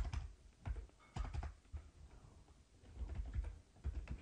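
Typing on a computer keyboard, a quiet, close patter of irregular key clicks in short bursts with brief gaps.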